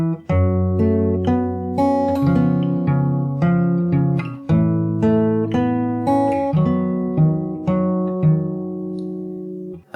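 Fingerstyle acoustic guitar plays the chorus of a song, with a steady pattern of plucked bass notes and ringing chords, close and clear with no voice.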